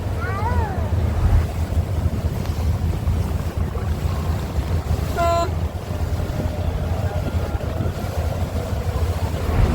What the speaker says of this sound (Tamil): லெஃப்டில் ஒரு சின்னதாக போட் போகுது பார்த்தீங்களா, அது வந்து பர்துபாயிலேருந்து சப்கா போகுது